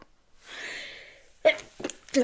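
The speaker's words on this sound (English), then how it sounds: "I had to sneeze." A single close sneeze with a sharp breathy burst, followed by a few brief vocal sounds.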